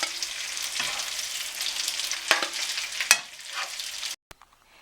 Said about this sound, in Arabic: في نفس الطاسه اللي حمرت فيها الكفته